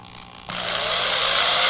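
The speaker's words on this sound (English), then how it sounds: "I got the drill going, and we can do that job." Power drill boring into monster clay for resin casting work: the motor kicks in abruptly and runs as a steady, rising whine, alone and close.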